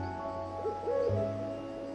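An owl gives a couple of soft, low hoots over a steady background hum, fairly faint and close together.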